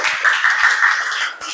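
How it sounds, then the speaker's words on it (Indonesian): Classroom applause for a student group during a lesson, a steady patter of many hands clapping close by at moderate loudness, mixed with faint overlapping voices and cheers. "Tepuk tangan untuk kelompok"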